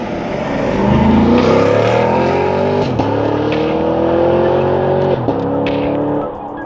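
Chevrolet Camaro SS V8 engine and exhaust roaring loud and close under hard acceleration, revs climbing through gears with sharp pops at each shift, no talking.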